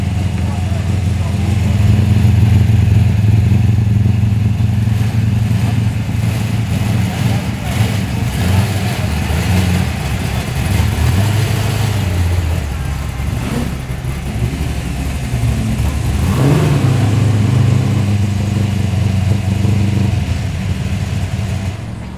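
A McLaren engine rumbling at an outdoor car meet with other tuned cars around, a loud steady drone that rises in a rev near the end, with crowd chatter and other engines underneath.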